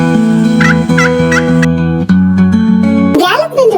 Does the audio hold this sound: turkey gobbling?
yes